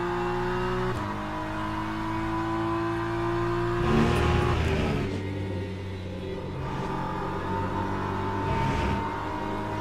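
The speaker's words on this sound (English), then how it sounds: "Drifting the car on that curb." A race car engine from the Le Mans Ultimate racing game drones loudly and continuously as the car drifts over a curb, with a gear change, then revs and rumbles that swell and fade.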